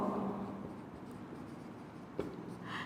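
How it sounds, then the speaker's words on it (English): A pen or chalk writes a letter on a board during a botany lesson, a faint scratchy stroke heard close against a soft room hiss. "I write I for inhibitor"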